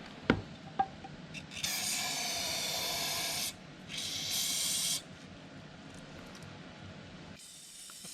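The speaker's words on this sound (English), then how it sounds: "After several passes with brake clean and compressed air" Brake cleaner and compressed air blast onto a turbo pickup tube after a turbo failure, giving two close, steady hissing sprays of a few seconds each after a couple of sharp clicks.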